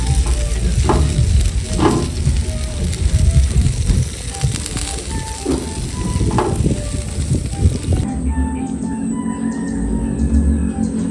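Chicken feet and heads grill on a barbecue, giving a steady, close sizzle with scattered crackles and pops that shifts to a duller, quieter hiss partway through.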